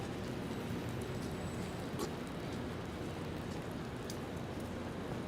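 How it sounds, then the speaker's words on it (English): Light rain falls steadily in a downtown street during Toronto's first snowfall of the year, a soft continuous hiss with occasional faint drips, no voices. "Now it's barely even raining."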